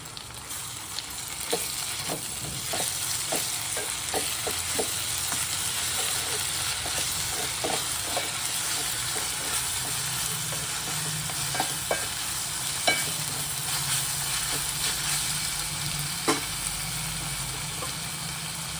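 Ginger garlic paste, coriander and mint fry and sizzle in a pan while being stirred for a chicken dish, a steady hiss under scattered clicks of the spoon, with no talk.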